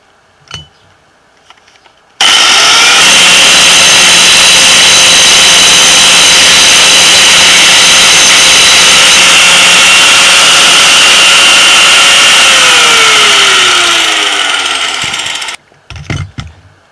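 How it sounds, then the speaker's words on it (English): A small angle grinder works a rebar sword blade, spinning up abruptly into a loud, sustained high-pitched whine with a steady grinding rasp, then winding down as the motor coasts to a stop. "I need to go through with the small grinder now and get rid of these little dips."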